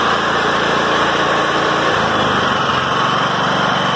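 Steady drone of a Wen 625i inverter generator running with eco mode off while being broken in, a constant even engine hum with a slight buzz and no talking.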